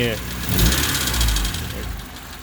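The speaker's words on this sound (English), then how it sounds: "it just idles really like shit right now" A Honda D16Y8 car engine idles roughly close by with an uneven, lumpy rumble, the revs dipping and surging, while a person talks over it.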